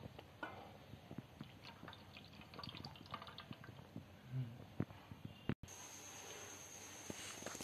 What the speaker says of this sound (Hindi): अब ये आप देखो पानी से नहला रहे हैं अच्छे से उनको।